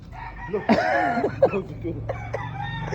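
Many chickens cluck and a rooster crows nearby, overlapping calls rising in bursts over a steady background murmur of the flock.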